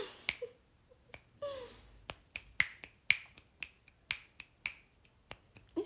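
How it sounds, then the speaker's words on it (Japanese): Fingers snap repeatedly, sharp dry clicks at a fairly steady pace that grow more regular after a few tentative tries, with faint rustling between them. "指パッチンした"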